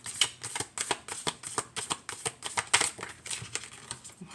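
Tarot cards being shuffled in quick, repeated riffles, a steady run of crisp papery flutters close by, with no talking.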